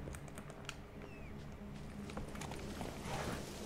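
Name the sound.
horse hooves of Roach in the video game Witcher 3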